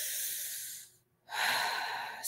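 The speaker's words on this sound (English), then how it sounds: "let's take a deep breath in and out" A single slow deep breath, a drawn inhale followed by a short pause and then a fuller, louder exhale, close and alone.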